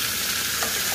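Chicken pieces cook in a red guajillo chile salsa with little oil, giving a steady, close sizzle and bubbling that fills the clip without pause.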